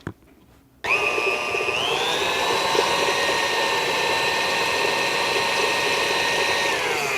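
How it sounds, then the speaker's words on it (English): An electric stand mixer creaming a stick of softened unsalted butter starts up abruptly after a short quiet lead-in, then whirs at a steady, loud, close motor pitch that rises slightly and holds for several seconds with no talking. "Put it in my mixer and turn it on."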